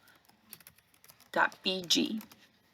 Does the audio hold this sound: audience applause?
no